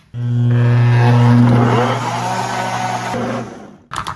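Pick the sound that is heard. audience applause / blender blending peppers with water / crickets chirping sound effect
blender blending peppers with water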